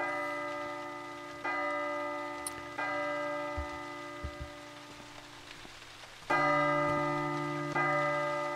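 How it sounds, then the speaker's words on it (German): Bells in the horror game P.T. (Silent Hills) ring out in repeated resonant, sustained strikes roughly every one to two seconds, fairly quiet, with faint scattered clicks between the tolls. "Dann gehen die Glocken an."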